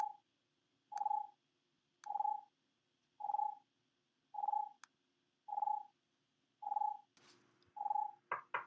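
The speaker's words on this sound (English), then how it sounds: "if you probably hear a ringing sound right now, that's the sound of my phone ringing." A phone rings with a steady repeating electronic tone: eight short, evenly spaced beeps at moderate volume over a quiet background, ending with some brief clatter.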